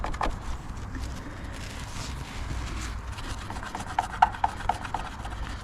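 A rag scrubs tar off the rear panel of a 2008 Smart Fortwo Pure 451, making soft, close, repeated rubbing strokes at low volume, with a few brighter scuffs near the end.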